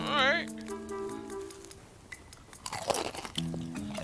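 Crunchy Wingstop chicken wing being bitten and chewed, crisp crackling crunches close to the mic, with talking and a short vocal sound around them.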